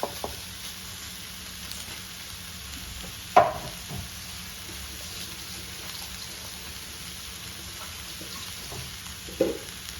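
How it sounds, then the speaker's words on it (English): Steady low frying sizzle of garlic butter steak bites in a pan, with occasional soft crackles and a brief clatter, continuous and close, no voices. "Now we're just gonna cook, watching it sizzle and turn brown"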